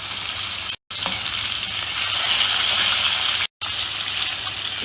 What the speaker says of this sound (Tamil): தீயை நல்லா லோ ஃப்ளேமில் வச்சு நம்ம ஃப்ரை பண்ணி எடுக்கும்